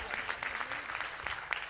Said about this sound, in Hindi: यदि सही बोल रहा है तो ताली तो बजाना चाहिए ना